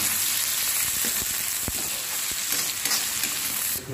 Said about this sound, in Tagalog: Nilagay na rin natin yung sibuyas. Ito yung haluin.